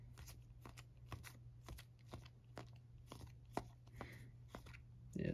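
Football trading cards from a hanger pack flipped through quickly by hand, a fast run of soft crisp snaps and card shuffles, close and fairly quiet, with no talking.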